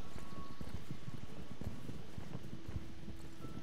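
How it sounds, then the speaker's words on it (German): Hooves from a horse walking through snow in the Star Stable Online video game give a soft, steady crunching clip-clop with a walking rhythm, over a constant wintry wind-like hum and faint tones, with no talk. "dieses Geräusch durch den Schnee zu laufen"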